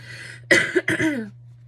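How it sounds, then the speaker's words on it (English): Two quick coughs close to the microphone, over a low steady hum. "I have to cough, excuse me"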